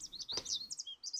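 Birds chirping as flight simulator ambience: quick, high, close tweets and trills in rapid succession, fairly quiet, with a short lower thud partway through and no talking.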